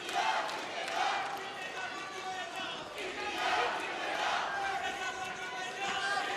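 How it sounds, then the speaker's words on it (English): Indian fans in the crowd at a Commonwealth Games wrestling bout in the West Midlands cheer and shout for Bajrang Punia, a continuous arena roar swelling in waves, with commentary running over it. "Plenty of them here cheering on Bajrang Punia."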